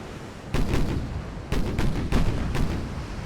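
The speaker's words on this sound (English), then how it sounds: "That's my torpedo salvo" A torpedo salvo fired from a warship in Ultimate Admiral: Dreadnoughts, Italy 1890: four heavy booming launches in quick succession, each a loud broadband thump with a rumbling tail, no voices.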